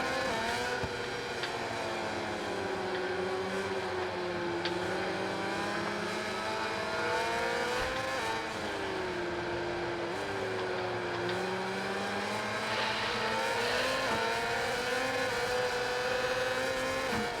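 Racing motorcycle engines in MotoGP 21 wail continuously and loudly, the pitch rising and falling through gear changes and corners, with no voices.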